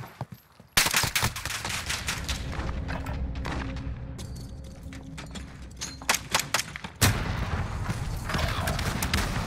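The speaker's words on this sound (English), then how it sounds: "Double nade, really?" Call of Duty MWII gunfight with two grenade blasts, a loud sudden burst near the start and another around seven seconds, between stretches of dense crackling gunfire and debris, all close and without talk.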